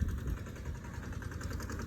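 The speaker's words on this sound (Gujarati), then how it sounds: "ટ્રેક્ટર લઈને આવી ગયા છે" A tractor engine idles steadily and quietly on a farm, a constant low rumble with no voices.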